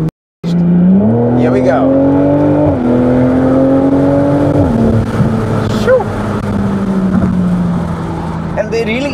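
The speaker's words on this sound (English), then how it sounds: "you hear the sound of the exhaust" A 2019 BMW Z4 M40i with the M58 engine, top down, its exhaust rising in a loud, close drone as the car accelerates through the gears, pitch climbing and dropping at each shift, with a short exclamation from the driver.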